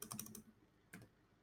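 A short run of clicky keystrokes on a computer keyboard while typing PHP code, a quick cluster of taps followed by a pause and one more key press, close and quiet.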